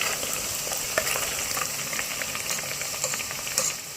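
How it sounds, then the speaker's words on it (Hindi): Steady crackling sizzle of cumin, spices, garlic and ginger frying in a hot pan, with occasional louder pops and spits, continuous throughout with no voices. "अब साथ लहसुन, अदरक डाल देंगे तो इनको 2 मिनट तक फ्राई करेंगे"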